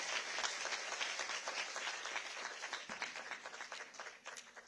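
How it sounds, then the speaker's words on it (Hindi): Steady, dense applause from a large audience welcoming Paralympic para-athletes at an official event honouring people with disabilities, with the crowd clapping loudly and continuously throughout. "एक बार इन सभी के लिए जोरदार तालियों से इनका स्वागत और अभिनंदन करिए"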